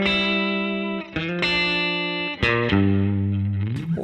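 Distorted electric guitar riff opening on a sixth interval, a handful of ringing notes and chord stabs with effects-laden sustain, loud and close with no talking.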